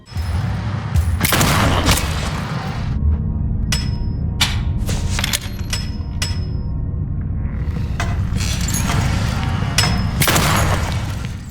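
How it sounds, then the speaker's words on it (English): Shotgun fire and reloading from the survival horror game Tormented Souls: a dense, loud game mix with repeated sharp booming blasts and thuds at irregular intervals over a constant low rumble. "Caroline looks like a pro reloading this shotgun"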